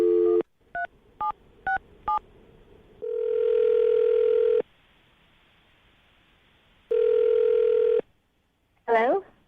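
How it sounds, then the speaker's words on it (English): Touch-tone dialing: five quick beeps in a row, followed by two long ringback tones with a pause between, then a short warbling electronic chirp. "I'm going to dial the phone number right now, get her on the phone,"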